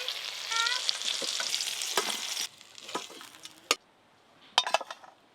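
Papaya pieces sizzle as they hit hot oil already used for frying bitter gourd, a loud crackling fry that drops off abruptly, followed by scattered clinks and scrapes of a utensil against the pan.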